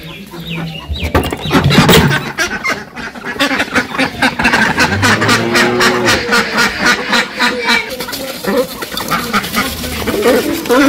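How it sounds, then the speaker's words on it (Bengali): Ducks being let out in a village yard quack loudly and steadily in a dense, overlapping chorus, close by, with occasional human voices among them. "হাঁসগুলো ছাইড়া দেই।"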